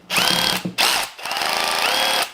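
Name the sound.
Bosch GSB 18V 150 C cordless impact drill running with slip clutch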